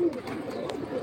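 A pigeon gives a soft, close coo in a single short burst, against faint background noise.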